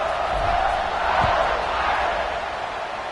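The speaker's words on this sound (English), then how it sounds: "this crowd is buzzing after that last score" A football stadium crowd roars and buzzes after a score, a broad sustained wash of many voices filling the air at steady loudness with no single voice standing out.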